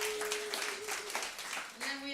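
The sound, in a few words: comedy club audience applause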